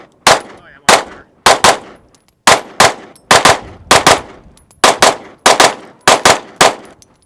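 Rapid strings of pistol shots from a ported Staccato HD fitted with a Monsoon Tactical Genghis compensator, fired in quick pairs and triplets, each report loud, close and sharp with short decays, no voices.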